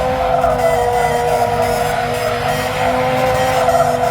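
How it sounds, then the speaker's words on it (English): Terry Grant's car at Santa Pod Bug Jam, running continuously close by as a loud steady engine drone with a sustained tonal whine. "You left your car running, Tel."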